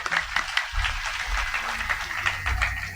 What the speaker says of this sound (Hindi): तालियां कमजोर हो रही है,